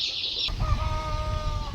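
Five-day-old desi chicks cheep inside a poultry farm's brooding section, thin high peeping calls over a continuous low rumble of the shed, with a brief hissing burst at the start.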